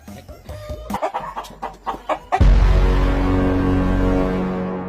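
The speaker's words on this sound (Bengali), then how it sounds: "আজকাও ভিটাত মুরগি ঢুকিয়া" Chickens cluck close by in a series of short, uneven bursts, followed by a sudden louder burst that trails into a sustained wash of sound lasting to the end.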